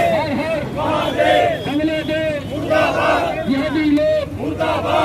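A large crowd at a Vishva Hindu Parishad and Bajrang Dal protest in Indri, Karnal, chants a slogan in loud, rhythmic call-and-response bursts, repeated several times.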